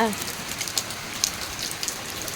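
Steady rain patters on a surface near an outdoor cooking fire, a soft continuous hiss broken by a few sharper drops, with no one speaking.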